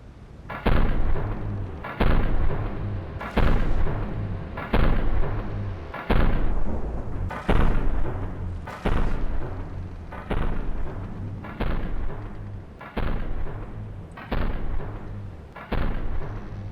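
Particle cannons in the game From the Depths fire again and again, each shot a heavy booming blast that decays quickly. About a dozen regular bursts land at roughly one-and-a-half-second intervals, loud and close, with nobody talking.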